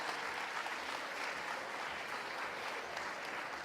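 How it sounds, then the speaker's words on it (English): Steady applause from a gala audience at a community organization's fifth anniversary celebration, a dense even wash of clapping held at moderate level throughout without a break. "Can you please give him a big round of applause?"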